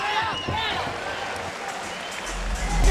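An arena crowd cheers at a boxing bout between Oscar Valdez and Genesis Servania, a broad steady roar with whistles and shouts, under a commentator talking throughout.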